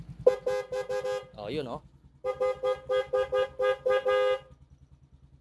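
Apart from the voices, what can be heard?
dual motorcycle horn sounding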